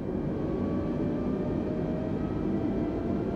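A steady, broad airliner cabin drone fills the cockpit of an Airbus A320neo in Microsoft Flight Simulator 2020 during an approach to Tivat, constant and moderately quiet with no voices.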